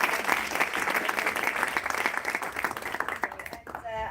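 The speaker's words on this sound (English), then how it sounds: "Can we have a round of applause for Cassie?" Audience applause at an apprenticeship awards shortlist reveal for the health, medical and social care category. Steady, dense clapping across the room fades toward the end, and a voice begins speaking as it dies away.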